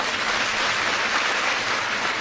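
Audience applause at a public government scheme event honouring a minister and department officials, a dense steady wash of many hands clapping, sustained and fairly loud with no pauses.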